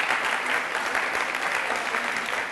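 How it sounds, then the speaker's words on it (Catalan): An audience applauds steadily and densely throughout, a continuous wash of many clapping hands at an even level. "Un fort aplaudiment per elles."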